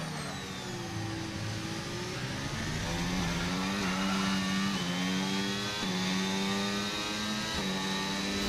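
A Ferrari Formula 1 car with DRS open races around Bahrain in a Formula 1 video game pre-season test, its high engine note rising through several quick upshifts, loud and unbroken.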